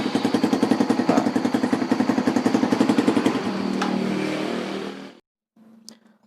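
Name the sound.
Suzuki Satria FI 150 motorcycle engine starting via electric starter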